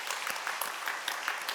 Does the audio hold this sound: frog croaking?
no